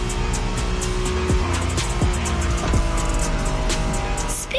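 Honda NSX sports car from the 1990s racing in The Crew Motorfest, engine revving loud and close with tires squealing through repeated shifts and skids.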